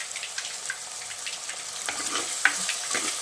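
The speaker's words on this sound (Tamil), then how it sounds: "தக்காளி நல்லா வதங்கட்டும்" Tomatoes with a little rock salt softening in a pan for a tamarind okra curry, giving a steady soft sizzle with faint scrapes of stirring, close and moderately quiet, no voices.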